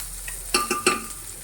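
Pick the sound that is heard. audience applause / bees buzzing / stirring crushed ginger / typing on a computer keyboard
stirring crushed ginger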